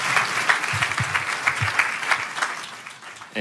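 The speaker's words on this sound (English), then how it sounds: "Come on, let's give them a round of applause one more time." A Sunday church congregation gives a steady, sustained round of clapping for guest speakers Shaunti and Jeff Feldhahn, many hands close and loud with faint scattered claps and murmurs underneath, ending abruptly.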